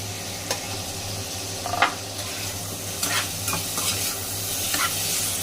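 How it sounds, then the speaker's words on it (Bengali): Potatoes are stirred into a spice paste with oil already separating, giving a continuous close sizzle with scraping stir strokes at intervals, and nobody speaks. "এখন আমি এটাতে আগে আলুগুলা দিয়ে দিব"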